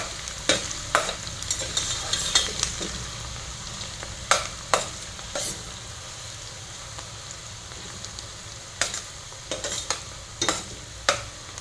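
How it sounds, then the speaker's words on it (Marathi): Onion sautés in a pan for veg pulao, a constant sizzle broken by sharp spatula scrapes and knocks against the pan in bursts, close and clear with no talk. "कांदा घालूया आपण कांदा छान असा परतून घ्यायचा आहे"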